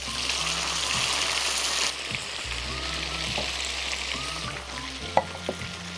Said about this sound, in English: When you're pan searing, we want to pan sear for about 2 to 3 minutes on each side